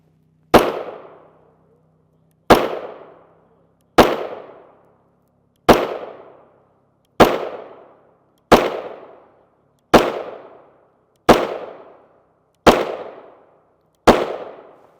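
Ten single pistol shots from a Smith & Wesson M&P Core 9mm with a 4.95-inch barrel, firing Geco 124gr FMJ rounds. Each sharp, loud crack decays quickly into a short ring, and the shots fall at roughly one-and-a-half-second intervals with no talking.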